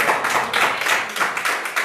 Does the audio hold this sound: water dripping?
no